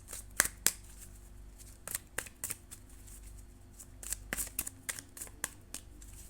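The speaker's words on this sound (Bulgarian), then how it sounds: "искам сега да изтегля няколко от обикновените таро карти" Tarot cards are shuffled by hand in a string of quick, crisp riffling bursts and soft taps, close and fairly quiet, with no talking.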